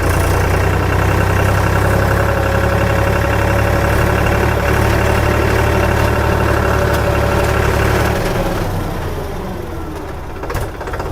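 A loud, rumbling tractor engine idles steadily close by, then its drone drops and fades as it winds down near the end.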